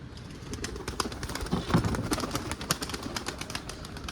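A pigeon in a coop, with soft wing flutters and faint coos among repeated sharp clicks and rustling close by, at a low, steady level.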